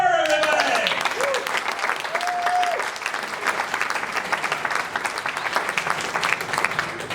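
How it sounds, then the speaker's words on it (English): Applause from a comedy club crowd at the Laugh Shop, steady clapping that follows a comedian's voice and continues to the end. "give a big round of applause for Mr. Frederick Kerr, everybody!"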